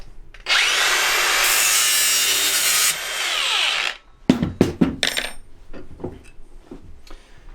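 A grinder cuts through a length of metal rail for a 16mm garden railway, a loud sustained whine for about three seconds that then drops off, followed by scattered knocks and clatter of handling the piece close by.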